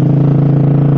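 A Suzuki GSX-R150 motorcycle fitted with a cheap Brataktak aftermarket exhaust idles close and loud, a steady rapid pulsing throb with no voices.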